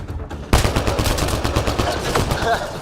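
Close, loud automatic weapon fire from the sci-fi shooter Mass Effect Andromeda erupts after a brief quiet moment and continues as a dense rattling burst to the end.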